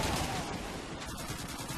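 Gunfire in the Call of Duty 2 video game, a dense continuous crackle of shots and automatic fire with a muffled, distant quality, steady throughout.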